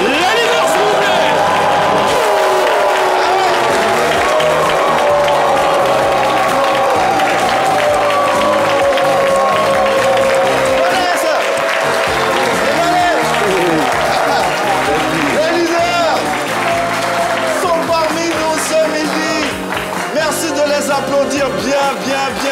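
Audience applause greeting a legendary band on a live TV show, loud and continuous beneath music and voices, with talk running over much of it.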